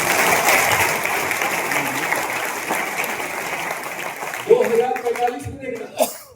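An audience at an RCM business talk in Bhilwara claps in a steady burst of applause that thins out as a voice takes over.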